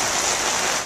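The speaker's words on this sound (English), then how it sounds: "Please stop raining." Rain falling steadily onto surfaces outdoors, a dense, even hiss of close drops with no voices.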